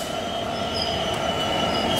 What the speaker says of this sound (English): It's a Colas Rail Class 66.